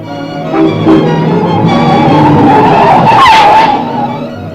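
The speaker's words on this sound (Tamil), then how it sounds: "மெல்ல போய் இது முப்பதனாயிரம் ரூபாய் வண்டி ஜெயந்தி மெல்ல போகாது" A motor vehicle is driven fast, with a loud, close engine roar and tires squealing and skidding, rising to a peak before easing off. No one speaks.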